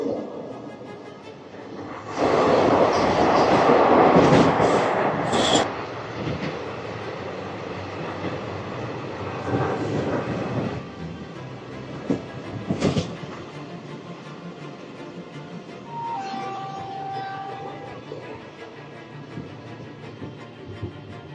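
A train passes through tunnel number 29 in the Eastern Ghats on the Koraput–Visakhapatnam line, with a loud enclosed rumble swelling early, then a steadier, quieter roar and a few sharp knocks and brief tonal squeals.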